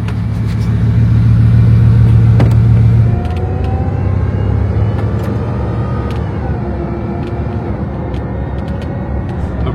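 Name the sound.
red and white sports car engine rumbling in Monaco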